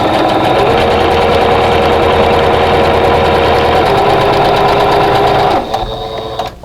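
Sewing machine stitching a quilt block along a drawn line with a quarter-inch piecing foot, a loud fast steady whirring chatter close up that stops near the end.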